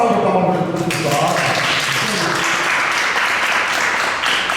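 Audience applause at a Portuguese-language talk on production methods, a steady broadband clapping texture that fills the clip at a loud level, with voices mixed in beneath.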